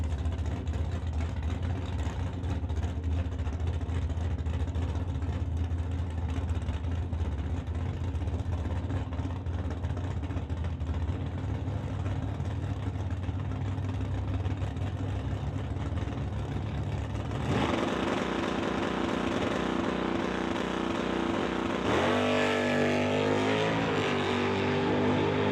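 A 1966 Chevy II and a Ford Mustang roar on a drag strip, steady loud engine drone building, then a sharp shift in pitch as the cars launch and accelerate hard away.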